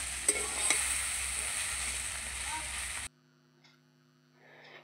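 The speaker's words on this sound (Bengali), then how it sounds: "চিলি সস সব কিছু দিয়ে ভালোভাবে মিশিয়ে নেব।" Chowmein with chili sauce sizzles and is stirred in a pan, a loud, even frying hiss with a couple of sharp clicks that cuts off abruptly to near silence partway through.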